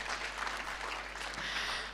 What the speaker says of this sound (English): let's give the innovators, the exhibitors, a round of applause for their solutions